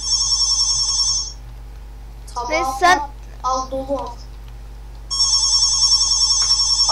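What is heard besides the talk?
home telephone ringing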